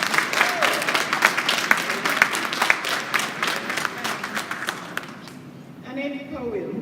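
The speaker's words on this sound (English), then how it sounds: "Clap them." Audience applause at a bursars and principals retreat for recipients receiving plaques, dense clapping with sharp individual claps, tapering off before a voice begins speaking at the end.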